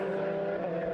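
Car number 220 racing at Oulton Park circuit, a steady, droning engine note held for a brief second as it comes through, fairly close and loud.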